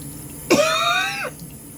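One short, raspy throat-clearing cough close to the microphone, lasting under a second, in an otherwise quiet room.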